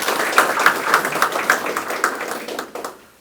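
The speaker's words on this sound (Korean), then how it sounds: "박수 한번 보내주시기 바라겠습니다." Audience applause fills a city hall situation room at a Korean residents' autonomy council chairs' inauguration ceremony. Steady, dense clapping from a crowd carries on for about three seconds before tapering off at the end, with no voices.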